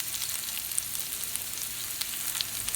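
Green peppers sizzle steadily in a hot pan for a steak and potato frittata, a continuous close hiss with faint crackles and no talking.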